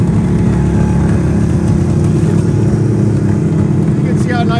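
A 1972 Suzuki Water Buffalo motorcycle engine idles steadily close by, a loud even two-stroke drone holding throughout, with a brief faint voice near the end.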